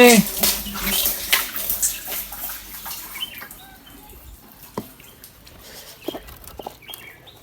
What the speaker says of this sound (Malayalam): വെള്ളം വന്നേ, വെള്ളം വന്നേ.